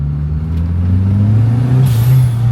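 A classic car engine revs hard from inside the cabin on a test drive, with a loud, sustained low drone that climbs slightly in pitch, with a brief hiss near the end and no talking.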